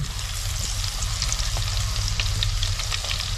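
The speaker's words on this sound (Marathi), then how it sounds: "लसूण आपल्याला ही थोडीशी लाल करून घ्यायची आहे" Crushed, finely chopped garlic fries in hot oil with bay leaves in a pot, giving a dense, steady sizzle and crackle close up, with a low background hum and no speech.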